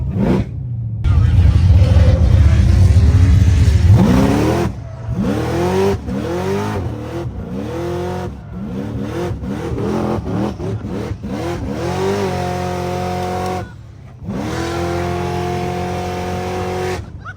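A car drives and revs hard at Powercruise, its engine rising and falling through repeated gear changes, loud and close, with tire noise, a brief early rumble and a few pauses between pulls.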